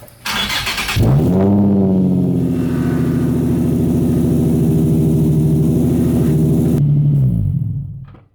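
A Nissan 350Z engine with an ISR dual exhaust cranks and fires up with a loud roar, then settles into a deep, rumbling idle through the throaty exhaust before shutting off.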